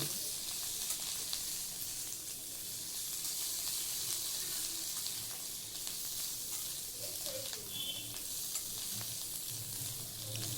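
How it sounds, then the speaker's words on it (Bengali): Vegetables sautéing with spices in a pan for sabudana khichdi: a continuous close sizzle with scraping stir sounds runs evenly throughout, with no talking. "মশলার সাথে সবজিগুলোকে একটু ভালো করে কষিয়ে নেব"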